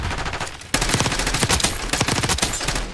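Rapid automatic gunfire in the Black Ops 6 beta rattles in dense, continuous bursts. It is loud and close, gets heavier after a brief lull, and no voices are heard.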